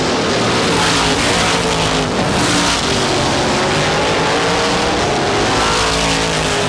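Race cars roar around Star Speedway in New Hampshire, a loud, continuous wall of engine noise with rising and falling pitch as several cars pass close by, with no voices.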